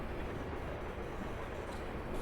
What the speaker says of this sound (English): Freight wagon of some sort. Could it have been a class 66?